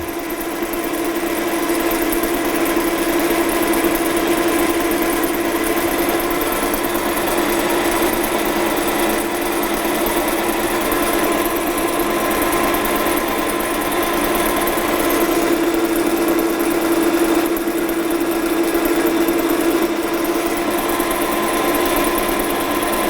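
Machine cutting a metal workpiece in a fitting and turning workshop, a steady loud mechanical drone with a constant hum running unbroken throughout, with no voices heard.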